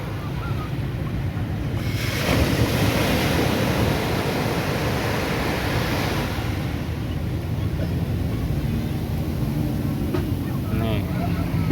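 Continuous ocean surf at Nha Trang beach in Vietnam, a dense rushing roar with a swell of breaking water early on, all under heavy wind buffeting close to the microphone.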